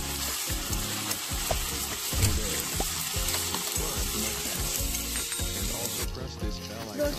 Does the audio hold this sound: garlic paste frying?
yes